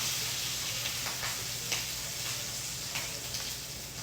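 A shrimp grilled cheese fries in a very hot pan, giving a soft, steady sizzle and hiss with occasional small pops, quiet and without talk.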